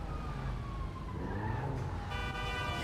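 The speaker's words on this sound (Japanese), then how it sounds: "サイレンが聞こえるぞ。" A police siren wails in the GTA Online video game, a faint wavering tone over a dense traffic and engine rumble, heard at a moderate distance without speech.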